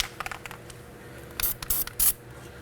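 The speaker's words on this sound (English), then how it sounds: "we wanna spray some Never Cease on the treads." Anti-seize spray on the threads of an outer tie rod on a 2011-2016 Kia Optima, a few short hissing bursts from an aerosol can, close and distinct, with light scraping clicks before them.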